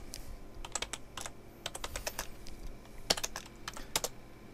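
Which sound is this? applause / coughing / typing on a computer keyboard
typing on a computer keyboard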